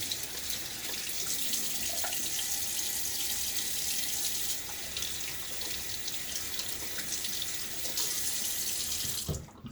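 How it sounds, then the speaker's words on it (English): Water runs steadily from a tap into a sink while a razor handle is rinsed free of soap, a continuous close splashing hiss that cuts off at the end. "Let me see if I can kind of get some of this soap off and rinse off the handle too."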